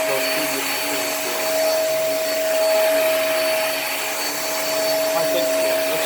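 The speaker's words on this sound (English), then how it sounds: "This Hoover has more airflow and suction than those previous machines do." A Hoover vacuum cleaner runs on carpet, its loud, steady motor roar and high whine continuing evenly throughout with no speech.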